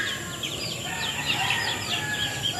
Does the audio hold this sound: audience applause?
no